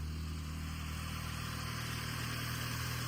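A Mopar car engine runs quietly at a steady idle, a smooth low hum heard up close for a few seconds with no speech.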